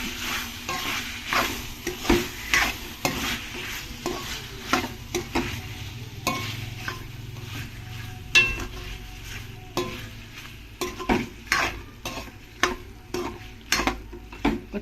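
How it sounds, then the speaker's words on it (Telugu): Chicken frying with masala in a pan, steady sizzle punctuated by repeated scraping strokes of a spoon against the pan in an uneven rhythm, close and alone. "చికెన్ మసాలా బాగా వేయించుకోవాలి"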